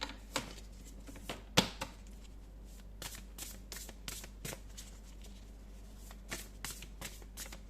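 Tarot oracle cards shuffled by hand, a quiet, close papery riffle with irregular soft slaps and one sharper snap, no talking.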